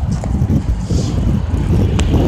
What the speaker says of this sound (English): This darn wind of hell